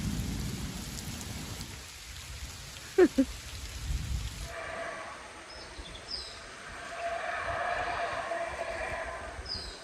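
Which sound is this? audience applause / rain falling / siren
rain falling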